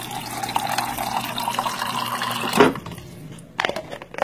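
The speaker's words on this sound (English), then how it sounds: "So then you're just gonna fill it up with water like" Running water pours from a tap into a water bottle for a few seconds, with a steady filling rush that cuts off, then a brief splash and clatter afterward.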